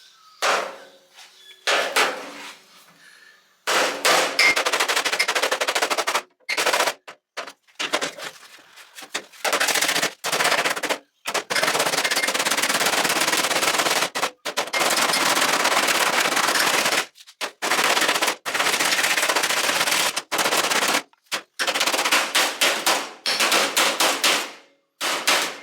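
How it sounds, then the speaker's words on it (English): A hammer folds the edge of a door skin on a 1966 Mustang, with rapid, loud bursts of metallic blows in fast rattling strings separated by short pauses, no talking heard. "It doesn't take much hammering to actually make it fold."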